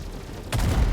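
Laser cannons on an Anvil F8C Lightning heavy fighter fire in Star Citizen, a single sudden burst starting midway and sustaining as a loud low rumble through the end.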